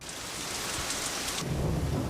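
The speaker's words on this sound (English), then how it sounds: "At times today, the rain came in torrents, forcing many boats to tie up for a second day." Heavy rain pours steadily on the Louisiana coast during Tropical Storm Alex, a dense, hissing downpour heard alone, with a deeper rumbling roar building under it toward the end.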